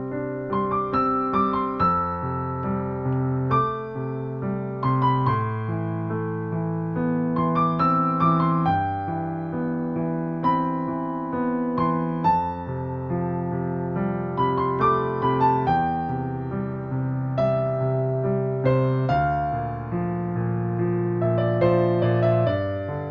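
Relaxing solo piano improvises a melodic right-hand variation over a repeating left-hand pattern, flowing and continuous with gentle sustained notes, close and even throughout.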